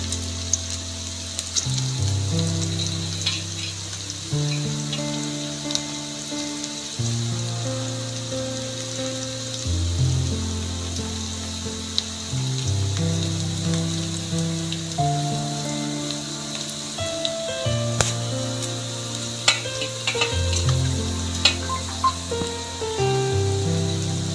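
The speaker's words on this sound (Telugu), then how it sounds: "మసాలాలు కూడా వేసుకున్నానండి కలుపుకుంటున్నాము పచ్చివాసన అంతా పోయే వరకు" Spices being stirred into a frying cucumber and tripe curry in a pan give a steady, close sizzle over the full length, with a low droning tonal backdrop and no talking.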